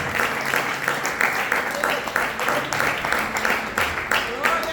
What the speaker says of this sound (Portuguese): Você pode aplaudir Jesus nesta noite?